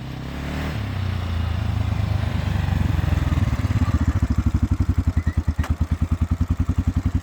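A 2000 Kawasaki Prairie 400 ATV in two-wheel drive runs close and loud, its engine rising into a rapid rhythmic throbbing pulse as it revs and pulls away, with no voices.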